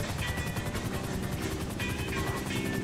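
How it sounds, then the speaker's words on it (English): A GTA 5 video game airplane roars continuously with a dense, loud engine drone and a throbbing propeller-like pulse that holds steady throughout. "We got an airplane."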